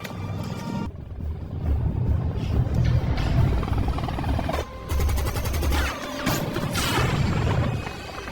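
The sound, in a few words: movie gunfire at a helicopter being shot down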